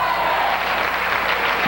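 A basketball crowd in Gates Gym cheers and roars during a high-school game between New Trier and Evanston, a dense, loud wash of voices that builds steadily.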